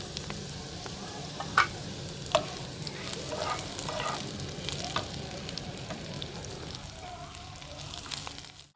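Hog plum peel frying softly in a pan, with a steady faint sizzle, occasional utensil taps and stirring scrapes, heard close with no talk.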